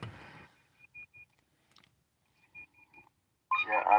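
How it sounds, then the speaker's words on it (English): A car's electronic warning beep from a malfunction, heard as a series of short, thin, evenly pitched tones in two groups, fairly faint in the background, with louder noise at the start and end. "That beeping in the background is coming from my car"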